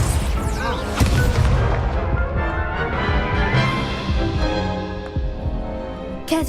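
A Confringo fire spell explodes in Hogwarts Legacy with a loud, booming blast and crackling rumble that rolls on under dense game music and effects, with a sharp hit near the start.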